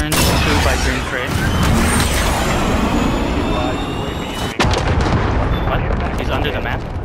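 A cruise missile strike in a first-person shooter video game brings loud, continuous rumbling blasts and roaring booms with a sharp cut midway, and voices sit underneath.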